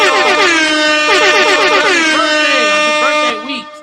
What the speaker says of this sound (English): We about to give multiple air horns